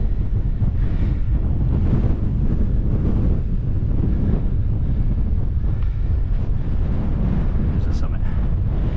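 Strong wind at Milarrochy Bay on the West Highland Way, a loud continuous low buffeting rumble battering the microphone throughout, with possible water sounds beneath.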